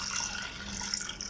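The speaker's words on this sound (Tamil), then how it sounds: "இப்போ இதில் தண்ணி சேர்த்துடலாம்." Water is poured into a cooking pot of lentils for carrot kootu, a steady close splashing stream with no talking.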